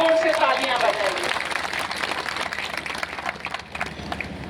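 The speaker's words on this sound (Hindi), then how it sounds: "आप अपने लिए खूब जोर से तालियां बजाइए" A crowd applauds at a village felicitation ceremony held by a Gurjar community temple trust in Karauli, a dense, steady wash of many hands clapping throughout, with a voice audible near the start.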